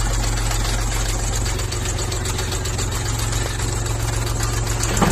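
A mini tractor with a front loader and reverser idles steadily and loudly, its low rumble and knock continuous throughout with no voices.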